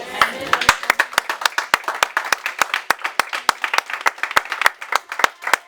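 A church congregation at a French-language worship service applauds, with sharp rhythmic clapping that is loud and close, running steadily through the whole stretch with no talking.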